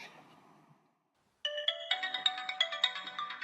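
An older smartphone ringtone plays a bright, bell-like melodic pattern of repeated chiming notes, loud and close, after a brief fading sound and a moment of silence.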